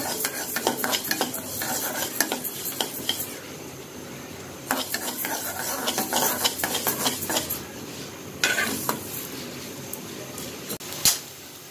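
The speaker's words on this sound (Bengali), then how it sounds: "আর খিচুড়ির জন্য এই যে মুগ ডাল ভাজতেছি" Mung dal being fried in a pan for khichuri, heard as steady stirring and scraping with utensil clatter against the metal pan over a soft sizzle, fairly close with brief louder knocks.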